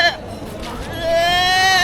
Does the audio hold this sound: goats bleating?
yes